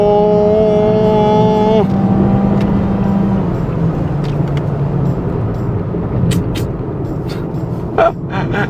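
A Mazda CX-3 accelerating in third gear, heard from inside as a close engine whine climbing in pitch, then dropping sharply on a shift into a rougher, steady drone, with a brief spoken exclamation.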